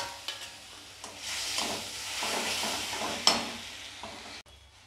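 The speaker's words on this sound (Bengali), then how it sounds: "টমেটো দুটো ওর মধ্যে দিয়ে দিয়ে ভালো করে কষিয়ে নেব" Tomatoes and spice paste stir-fried in a pan for a crab bhuna, a steady sizzle with scraping and stirring strokes throughout, close and moderately loud, with a sharp clink near the end.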